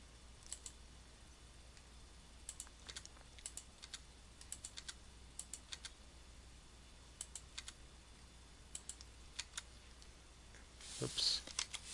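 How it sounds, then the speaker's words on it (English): Keystrokes on a computer keyboard tap out in irregular bursts with a tab key pressed while formatting a Microsoft Word document, quiet and close, with a louder click near the end. "I go before each of these sections and I press tab"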